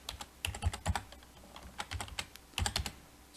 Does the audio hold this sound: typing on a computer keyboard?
yes